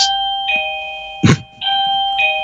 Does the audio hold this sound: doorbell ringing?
yes